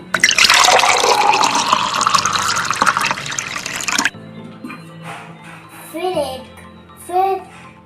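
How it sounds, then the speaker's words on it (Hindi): Water pours into a glass in a steady, splashing stream for a few seconds as the glass fills, then stops, followed by someone speaking close by. "ग्लास में पानी भरेंगे,"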